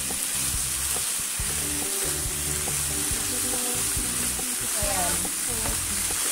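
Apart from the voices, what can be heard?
chicken fillet and kangkong stir-frying in a pan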